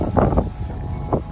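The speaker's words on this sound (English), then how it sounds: "it's so windy here" Strong wind buffets a microphone in a garden on a cold autumn morning, a steady low rumble rising into heavier gusts near the start and again toward the end, with no other sounds standing out.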